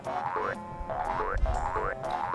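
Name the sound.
Banjo-Kazooie video game egg sound, a pitched-down kazoo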